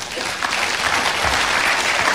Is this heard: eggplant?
no